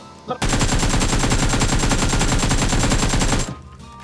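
Sustained automatic gunfire from a shooter video game, a rapid continuous burst lasting about three seconds, loud and close, with a brief faint sound before it starts.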